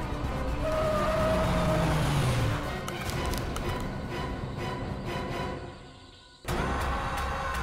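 A car drives along with a steady broadband engine and road rumble and a faint rising whine early on; the noise dips and cuts out briefly near the end, then returns.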